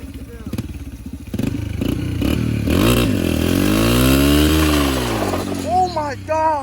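A dirt bike engine fitted with an oversized rear sprocket revs hard and loud, its pitch sweeping up and down as the big sprocket spins fast, with excited voices talking over the roar at the start and end.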